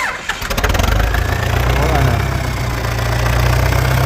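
A Belarus tractor diesel engine fitted to a YuMZ tractor cranks and catches, then settles into a loud, steady low rumble that stays close and continuous.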